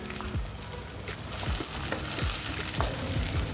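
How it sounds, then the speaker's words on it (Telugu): Onions, green chillies and curry leaves fry in a pan, a loud, steady crackling sizzle with quick scraping sweeps of a spoon stirring. "పచ్చిమిర్చి వేసుకోవాలి అలాగే కొద్దిగా కరివేపాకు వేసుకొని ఫ్రై చేసుకుందాం"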